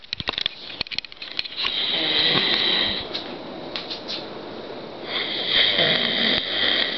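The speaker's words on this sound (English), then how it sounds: "And he's snoring." A man snores loudly in a room at night around 2 or 3 a.m., harsh rasping breaths repeating in long noisy waves close by, with a few sharp clicks early on and no talking.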